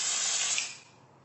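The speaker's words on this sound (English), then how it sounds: "I did not like the idea of a spray foundation one little bit." A single short hiss of spray foundation from an aerosol can, close and bright, cutting off after about a second.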